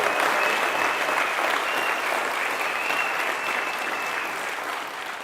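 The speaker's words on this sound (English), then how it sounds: "You can give me a round of applause." Dense, steady audience applause at an entrepreneurs' talk in Cape Town, a continuous wash of many hands clapping that slowly tapers toward the end, with no voices over it.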